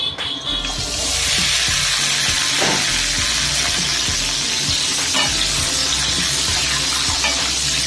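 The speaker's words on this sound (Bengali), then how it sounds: "কালো জিরে ফোড়ন দিচ্ছি" Nigella seeds tempering in hot oil give off a loud, steady sizzle and crackle throughout, close up, with faint stirring scrapes underneath and no talking.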